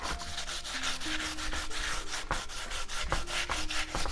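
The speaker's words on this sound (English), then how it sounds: "we will start first of all with 50 grit" Steady, close abrasive rubbing of 50-grit sandpaper across a lightweight, high-strength concrete bonsai slab, a continuous scratchy scrubbing with rhythmic strokes and occasional small knocks, no voices.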